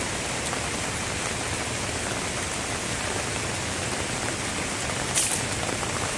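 Heavy rain pours onto a tarp, a dense, even hiss of drops drumming without pause, close and steady throughout.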